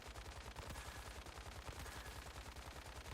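Sustained automatic weapon fire in the shooter video game Once Human, a dense, rapid stream of loud shots that continues without pause.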